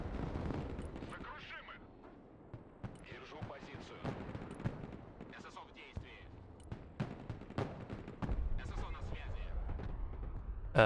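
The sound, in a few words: units shooting guns in the video game Broken Arrow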